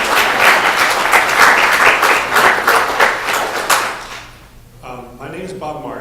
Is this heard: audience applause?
yes